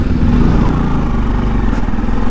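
A motorcycle engine rumbles heavily and close at the start of a ride near Kullu-Manali, a steady low throb with loose clatter running unbroken through the short stretch.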